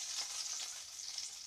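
A sausage sizzling in a frying pan, a soft steady crackle and hiss that continues evenly throughout, fairly quiet, with no voices.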